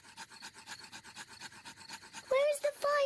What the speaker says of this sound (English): Daddy Pig is rubbing the two sticks together to light the campfire.